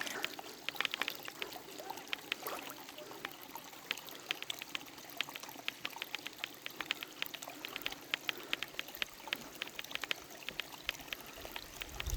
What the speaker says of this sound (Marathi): हे नॅचरल डोंगरातलं पाणी